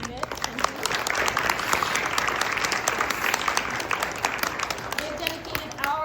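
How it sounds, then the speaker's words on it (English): Audience applause for school board candidates at a Lindon/South Pleasant Grove Q&A event, a dense steady wash of many hands clapping filling the room for several seconds without a break. "We give a round of applause for our candidates."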